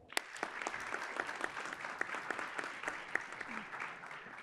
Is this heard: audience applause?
yes